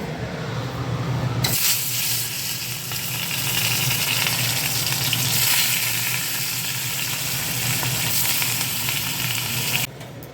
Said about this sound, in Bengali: চিংড়ি মাছের পা প্লাস ওই যেই মাছটা এনেছিল সেই মাছটা ভাজা হয়ে গেছে